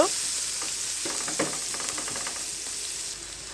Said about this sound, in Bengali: এখন আমি এগুলো হালকা ব্রাউন কালার করে কিছুক্ষণ ভেজে নিব